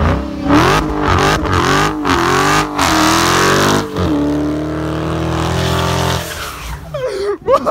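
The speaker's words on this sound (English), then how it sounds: "Just do a straight burnout right here. Just spin them real quick." A Dodge Hellcat doing a straight burnout in deep snow, its engine roaring loud and close with rising and falling revs as the tires spin, ending in a rougher burst of noise.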